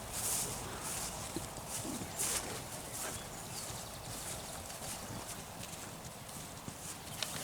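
A herd of cows walks down a cow path through a new grass ley, with steady, overlapping hoof thuds and shuffling footsteps at middle distance over a soft outdoor background, no speech.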